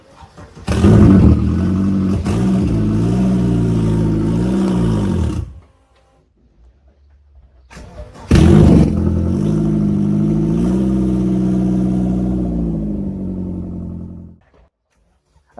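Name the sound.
AWD Vauxhall Nova engine running as it is driven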